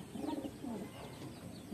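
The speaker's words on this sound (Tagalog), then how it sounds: "binitawan ng ating ibon." A racing pigeon coos softly at close range, two or three low rolling coos over faint background noise.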